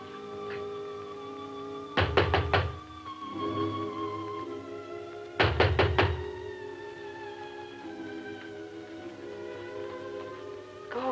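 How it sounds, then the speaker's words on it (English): Rapid knocking on a door in a police drama scene, two separate bursts of several sharp knocks each, close and loud over quiet room tone with a low musical underscore. "Open the door, Miss Berry."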